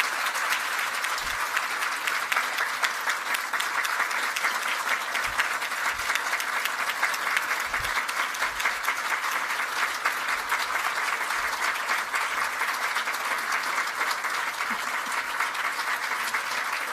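A large graduation audience for a 2021 girls' school class applauds in a sustained, dense wash of clapping that holds steady and loud throughout.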